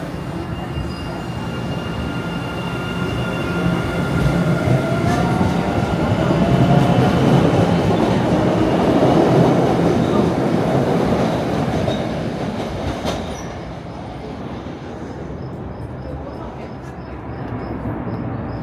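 MBTA subway train with newly replaced cars running from Malden Center toward Haymarket in Boston, a steady loud rumble of wheels on rail with faint squeals, easing slightly toward the end.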